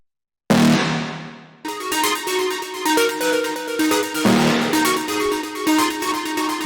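A bright synth stab from a cosmic techno track hits sharply, then drops into a looping groove of repeated punchy stabs over a steady pulse, loud and up front with no voices.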